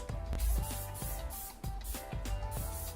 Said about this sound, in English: I'm gonna then spray it with a little bit of hairspray.